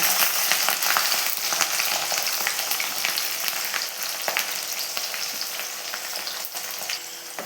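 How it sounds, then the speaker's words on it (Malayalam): Mustard seeds spluttering in hot oil for a Kerala chicken perattu, a dense, continuous crackle of tiny pops and sizzle, close and steady throughout with no talk. "എണ്ണ നന്നായിട്ട് ചൂടായി വരുമ്പോൾ നമുക്ക് അതിലേക്ക് ഇനി ഒരു ടീസ്പൂൺ കടുക് ഇട്ടൊന്ന് പൊട്ടിച്ചെടുക്കണം"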